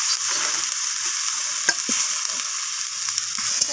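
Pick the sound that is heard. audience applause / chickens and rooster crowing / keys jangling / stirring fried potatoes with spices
stirring fried potatoes with spices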